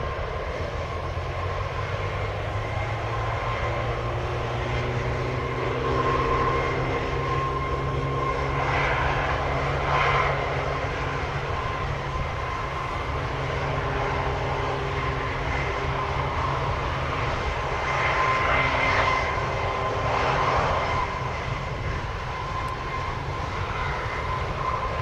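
An airliner taking off from an airport, a loud, steady jet engine roar with whining tones that rise and shift over a long stretch, heard from nearby with no voices.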